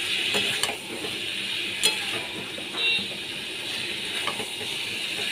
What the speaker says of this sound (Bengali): পটল, আলু, চিংড়ি দিয়ে আমি এবার ভালো করে কষিয়ে নেব।